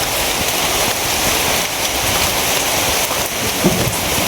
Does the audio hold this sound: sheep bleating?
no